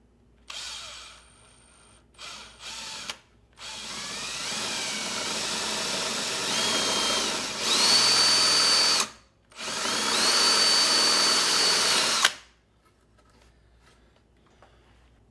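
A power drill bores a 3/8-inch plug hole for a DIY floating shelf, with several short whirring bursts followed by longer, louder high-pitched runs that stop briefly, resume, then cut off into near silence.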